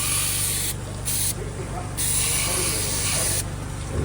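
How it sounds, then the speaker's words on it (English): Close, loud hissing spray of treatment onto an infected, cracked hoof in several bursts with brief pauses, over a low background rumble. "So we'll just spray it up"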